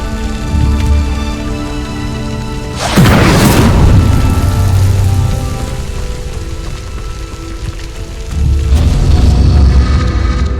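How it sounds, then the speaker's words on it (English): An Incendio fire spell in Hogwarts Legacy bursts into flame at a pyre, a sudden loud whooshing roar followed by a long crackling, rain-like fire texture, with a low rumbling game soundscape before and after. "Incendio. Merlin's beard! The flames make the pyre sink."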